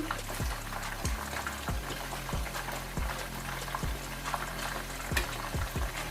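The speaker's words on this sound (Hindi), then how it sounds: "नहीं, अभी ये और थोड़ा सा इसको फ्राई करेंगे।" Fish frying in a pan for a masala curry, a dense continuous crackle and sizzle with a steady low hum underneath and regular soft thuds throughout, no speech.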